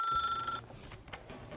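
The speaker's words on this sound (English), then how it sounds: "the phone rang." A landline telephone rings in a flood-control center office, a short electronic warble that cuts off after about half a second, followed by faint room noise and a few small clicks.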